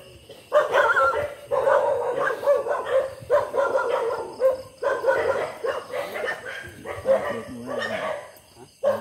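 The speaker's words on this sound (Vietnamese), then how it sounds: "Ở đây chó rất là nhiều cái nhà, chó nó sủa dữ lắm." Several dogs bark hard and repeatedly at a house in a flooded rural area at night during frog fishing, with steady, overlapping barks and yips that sound fairly close.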